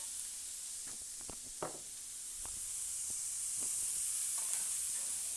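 Bacon and onions fry in a pan for cassoulet, giving a steady close sizzle and hiss with a few scattered crackles and stirring scrapes.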